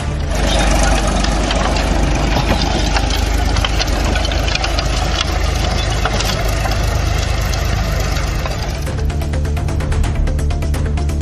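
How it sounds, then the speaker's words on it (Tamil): A tractor engine drones loud and near while destroying a cabbage crop in a field, a rough, steady mechanical rumble with knocking through the whole stretch. "முட்டைகோஸை அறுவடை செய்யாமல் தனது நிலத்திலேயே வைத்து டிராக்டர் மூலம் அழித்துள்ளார்"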